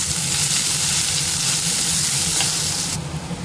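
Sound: onions sautéing in a pan

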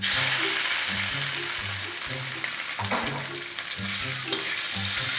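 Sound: shrimp stir-fried with garlic in a pan

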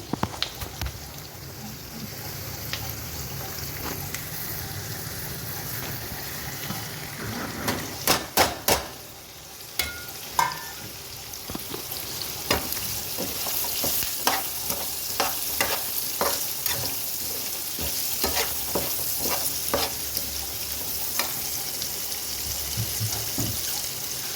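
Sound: onions frying in pan

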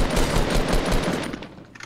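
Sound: gunfire in the video game Fortnite

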